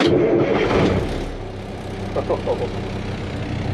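A truck engine turns over and settles into a steady low idle with exhaust rumble, close and fairly loud, with a few faint voice-like sounds.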